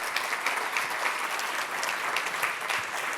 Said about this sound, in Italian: vedo il mio batterista Davide Regazzoni, a cui farei un applauso